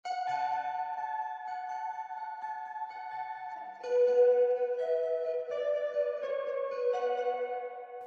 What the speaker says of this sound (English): And for the lead, I'm using the same thing, but I put the pedal device before it, just to get that little bit of crunch.